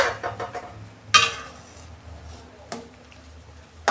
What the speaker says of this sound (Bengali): দেখুন বন্ধুরা, ঢাকনাটা আমি খুলছি।